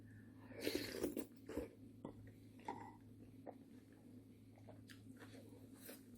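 Chewing Jeju pork at a meal, with a few close, moist bites and crunches early on, then softer intermittent mouth sounds over a steady low hum, with no talk.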